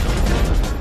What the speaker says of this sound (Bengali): ওগো বোমা পড়ছে